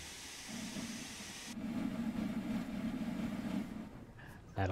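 Steam locomotive on a coastal excursion to St Ives spinning its wheels: a loud, rapid rhythmic chuffing roar that surges for a few seconds and then cuts off.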